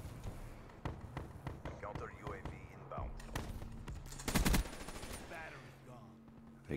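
Rapid automatic gunfire from an HVK rifle in a video game comes in bursts of quick pops, mostly soft with one dense louder volley near the middle, while a player talks throughout.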